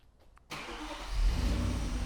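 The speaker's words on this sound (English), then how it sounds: "And the vehicle starts." A car engine fires up after a remote start from a phone app, cranking briefly and then settling into a steady, fairly loud idle, following a faint quiet stretch.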